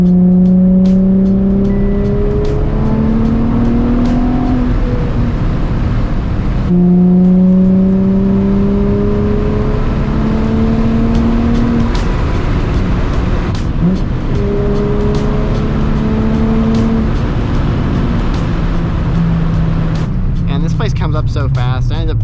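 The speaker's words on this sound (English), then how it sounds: "I end up flooring it at this place all the time" A Nissan 350Z pulls hard at full throttle from the cabin, the engine note climbing loud and steady through several gear changes with brief dips between pulls.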